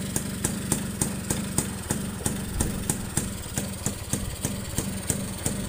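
A Yamaha V80 motorcycle engine runs at a steady idle, close by, with an even, rapid ticking beat that continues unbroken throughout.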